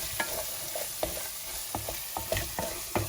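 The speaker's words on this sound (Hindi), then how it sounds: "जीरा पाउडर, मिर्च पाउडर, हल्दी पाउडर और धनिया पाउडर डाल के इसको पका लेते हैं।" Soft sizzling in a pan with repeated rhythmic spoon scrapes and taps as cumin, chili, turmeric and coriander powders cook into a misal masala.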